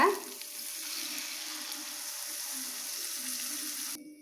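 Tamarind water poured into frying masala in a pan for drumstick curry, a soft steady sizzle and bubbling that runs evenly and fairly quietly, then cuts off abruptly near the end.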